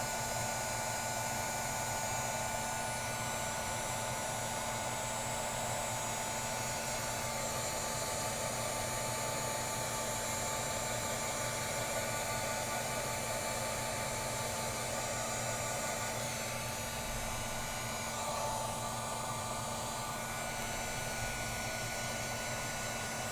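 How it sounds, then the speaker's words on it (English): A heat tool blows hot air to heat-set a mosaic butterfly craft, giving a steady, even rushing hiss that runs unbroken throughout. It is close and moderately loud, with no talking over it. "I'm just going to heat set this, and you'll know that it's heat set once it becomes shiny"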